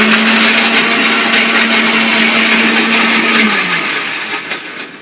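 A kitchen mixer grinder runs loud and close with a steady motor whine and grinding rush, then the motor slows and winds down toward the end.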